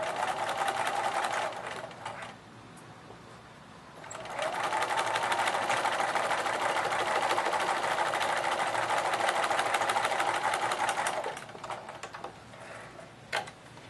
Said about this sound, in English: Here I am chain piecing some 4-patch units together.